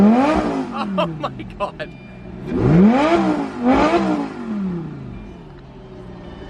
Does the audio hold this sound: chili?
no